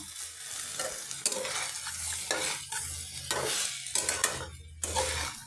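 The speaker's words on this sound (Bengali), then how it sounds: "এই যে বেগুনটা আমি ভালো করে হালকা হাতে নেড়ে মিশিয়ে দিচ্ছি যাতে না ঘেটে যায়" Brinjal is gently stirred into methi saag in a pan, with repeated soft scraping strokes of a spoon against a low sizzle, in a close, quiet, regular rhythm.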